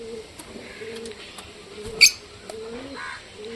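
Pigeons in a pigeon loft give soft, low coos at a distance, with faint rustling throughout and one brief, sharper call near the middle.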